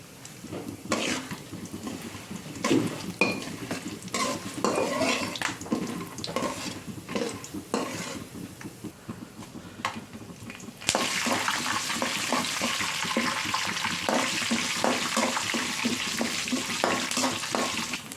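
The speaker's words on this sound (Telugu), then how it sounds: "2 టేబుల్ స్పూన్ ఆయిల్ హీట్ అయ్యాక 2 స్పూన్స్ పల్లీలు, 1 స్పూన్ శనగపప్పు వేసుకుందాం." Steady frying sizzle of peanuts and chana dal in hot oil, with stirring clatter, growing louder and denser partway through, no voices.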